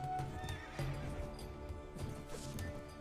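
Horses in the medieval battle game Steel and Flesh 2 whinny loudly and repeatedly over a dense clatter of galloping hooves, with battle din mixed in throughout.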